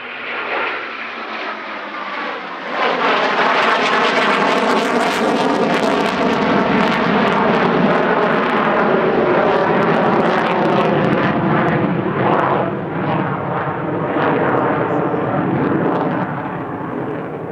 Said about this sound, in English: In now, from the right, 2 Typhoons for a missing man flyby.